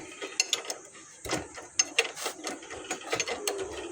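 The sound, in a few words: tightening motorcycle chain sprocket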